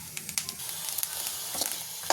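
Ingredients for theeyal curry fry in a pan with a steady, close sizzle and scattered crackles and pops, heard alone without talk.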